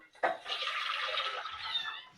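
A steady stream of water pours and splashes into a cooking pot for about two seconds, close and fairly loud, with no talking.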